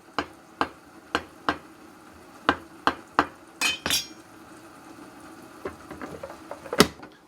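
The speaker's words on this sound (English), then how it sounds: "we're gonna slice this tomato really well" A kitchen knife slices through a tomato for taco night, giving a run of sharp, evenly spaced taps on the cutting board, then a few looser clacks and a final louder knock.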